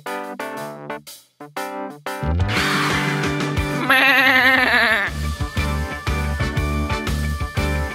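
Sheep bleating amid toy-like musical sounds, with repeated short bleats over a busy, loud backdrop of tones and beats.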